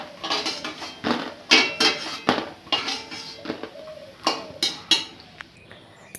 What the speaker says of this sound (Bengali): বড়াগুলো হয়ে গেছে, নামিয়ে নিচ্ছি।